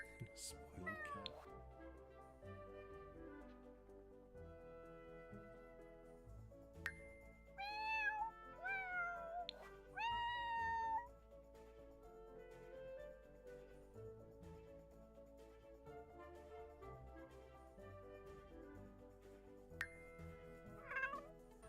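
A pet cat meows several times in short rising calls around the middle, close and clear over a steady low background with some talking.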